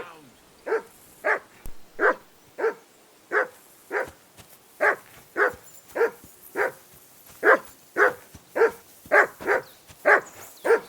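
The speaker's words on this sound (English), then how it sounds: "Call off that mutt of yours!" Dog barking in the video game Kingdom Come Deliverance II: a long run of sharp, evenly spaced barks, about two per second, loud and close, with no talk over them.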